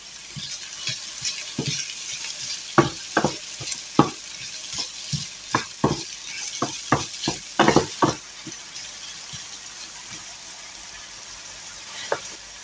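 Homemade hamburger steaks fry in a pan, with a quiet continuous sizzle broken by intermittent scrapes and taps of a utensil, close and moderately loud, without any speech.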